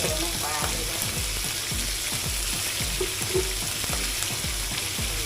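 Catfish pieces stir-fried with oyster sauce in a wok hiss with a steady, close sizzle, while rhythmic scraping strokes of a spatula beat across it about twice a second throughout.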